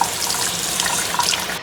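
Steady hiss of water running from a kitchen faucet into a sink, loud and close, constant with no pauses and no talk.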